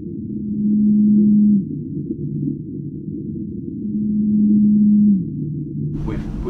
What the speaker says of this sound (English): Yes, we've detected blue whale calls.